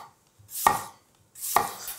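A knife slicing apples on a cutting board, two crisp distinct cuts about a second apart, close and clear with quiet in between.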